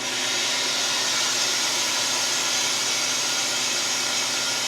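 A freeze dryer's drain valve stands open and vents air in a steady, loud, broadband hiss that holds unchanged throughout, close by and with no talk.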